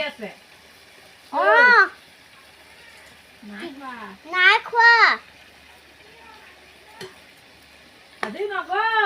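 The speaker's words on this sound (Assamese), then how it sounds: "এয়া ভাজি লৰাই আছে।" Vegetables frying in a wok-style pan (kerahi) being stirred, with short scraping strokes and a soft sizzle running under intermittent nearby talk from a woman and a child.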